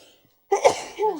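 A single sharp sneeze bursts out close by after a brief silence, followed by a short voiced trailing breath.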